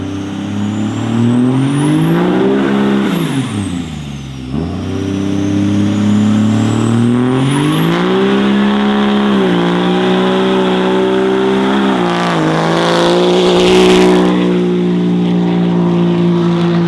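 A car fitted with new wheels revs hard at the roadside, its engine droning loudly and steadily, with the pitch climbing, dipping sharply around the middle, then rising again and holding high.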